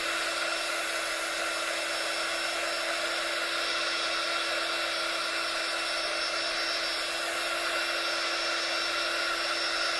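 A heat gun blows a steady, unbroken whooshing whir at close range while drying Inka Gold paint on a Christmas card, holding at an even level throughout.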